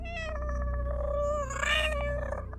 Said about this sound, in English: My cat would always let out a long humming meow from his throat.